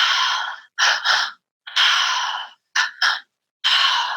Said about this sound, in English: one of the breaths that I teach is it's a 3-part breath